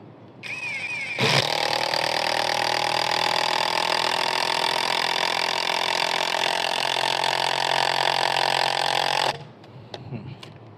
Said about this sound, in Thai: แต่สำหรับพวกไขควงกระแทกนะ จับง่ายๆนะครับ นี่มือเดียวด้วยนะครับไม่ต้องกดนะครับ